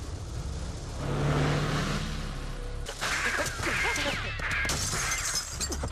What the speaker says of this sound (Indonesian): Kit berlari keluar ke dalam mobilnya dan ia segera menancapkan gasnya.